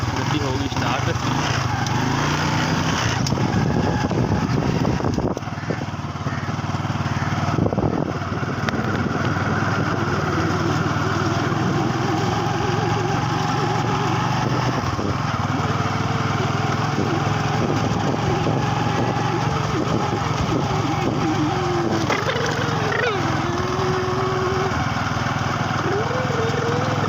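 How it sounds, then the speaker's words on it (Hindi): A motorcycle in a village is kick-started and then left idling, its engine droning steadily and close by for the whole stretch while voices talk over it. "मोटरसाइकिल जी मैं किक मार रहा"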